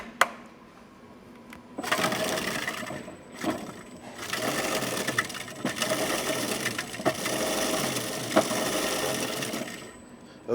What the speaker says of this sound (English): so we're gonna just pulse it again.